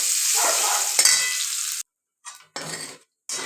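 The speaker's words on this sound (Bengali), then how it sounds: "পনিরগুলোকে একটু ভেজে নিই" Paneer pieces sizzle loudly in hot oil with a steady frying hiss, broken by a short stir-clatter, then a few brief gaps and renewed bursts of sizzling close by.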